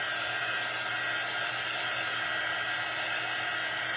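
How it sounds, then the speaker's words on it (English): A hair dryer blows steadily at close range, drying paint on a watermelon design painted on a round wooden door sign, a loud unbroken whoosh with no talk. "we are needing to dry this all the way. This dryer you can also get on my website"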